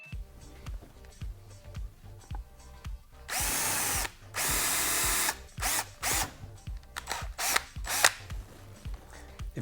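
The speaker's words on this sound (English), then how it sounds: "I believe a 1/4-inch drill bit will do the trick" A power drill fitted with a 1/4-inch bit bores holes for a turn signal install on a 2015 or later Yamaha R3 motorcycle, whining loudly in several close bursts of varying length between quieter clicks and handling noises.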